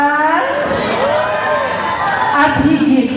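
Audience at a Miss Gay costume pageant cheering and shouting, with loud excited screams and shrieks over a steady crowd din, close and energetic throughout.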